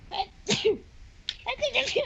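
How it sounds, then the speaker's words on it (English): One sharp sneeze bursts out close to the mic, followed by a person talking. "That was my sneeze."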